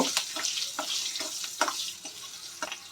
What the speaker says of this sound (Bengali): ফোড়নটা আমি একটু ভেজে নেব